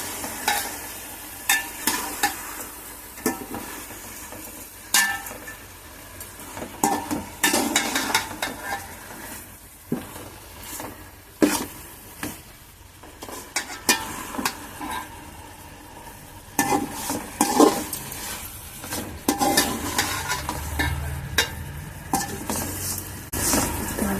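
Mint and herbs sautéing in a pan for chicken biryani, a soft sizzle under frequent clattering scrapes and taps of a spoon stirring against the metal.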